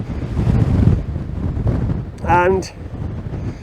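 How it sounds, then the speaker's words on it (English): Gusty mountain wind on the Rax Alp buffets the microphone with low rumbling noise, fairly loud and continuous, while someone talks over it. "the wind is getting up a little bit now"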